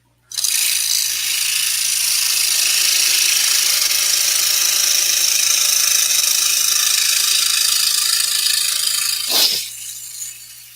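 A scroll saw cuts through wood with a steady, loud buzzing whine that starts abruptly and holds evenly for several seconds, then shifts briefly near the end before winding down.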